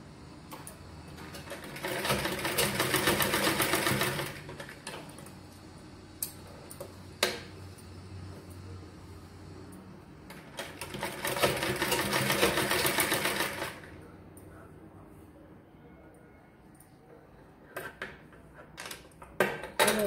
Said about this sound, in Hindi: इसको भी ऊपर से ऐसे सिलाई लगाई